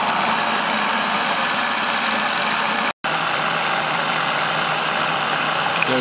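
Continuous, even mechanical running noise of a small Saito model steam engine, steady and close, with a brief dropout near the middle.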